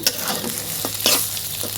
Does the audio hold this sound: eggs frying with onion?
yes